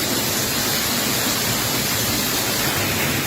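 A thick, unbroken rush of hail pelts a fibre roof overhead in Punjab, loud and constant, like heavy rain hammering a hollow sheet, with no one speaking.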